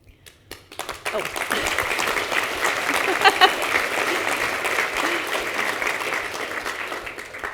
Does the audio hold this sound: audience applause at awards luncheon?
yes